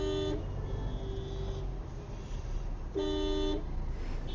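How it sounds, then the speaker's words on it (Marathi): A car horn honks in a traffic jam on an old road near Gokarna, Karnataka: a long toot, a fainter one, then another clear blast over a steady rumble of engines. "इथं 12 महिने इथं ट्रॅफिक जॅम असतंच"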